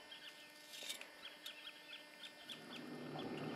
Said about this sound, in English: Birds singing themselves to sleep in the background